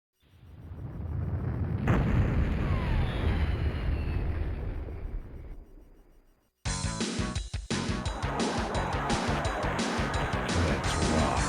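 Retro Duke Nukem 3D game audio plays a long rumbling blast that fades out, then after a short gap a harsh, dense burst of crackling explosions and gunfire-like noise runs on loudly.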